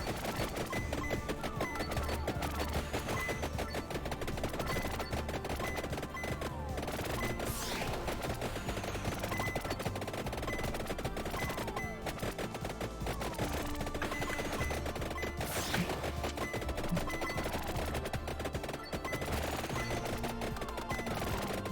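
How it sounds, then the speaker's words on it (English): Rapid-fire las gun shooting in the video game Vampire Survivors, a relentless stream of quick zapping shots layered over busy game music and constant hit effects, steady and dense throughout. "The rapid fire las gun's fun"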